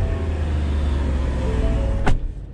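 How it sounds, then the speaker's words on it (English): A Ford Shelby Sport's supercharged engine drones steadily from inside the cabin, with a faint high supercharger whine over the low rumble and a brief sharp sweep near the end. "you can hear the supercharger a little bit"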